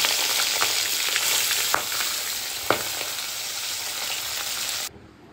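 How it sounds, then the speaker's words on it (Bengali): Tangra fish sizzle loudly in hot mustard oil in a kadai, a steady dense frying hiss with a few sharp pops, stopping abruptly just before the end. "এবার এই তেলে আমি মাছগুলি ভালো করে ভেজে নেব।"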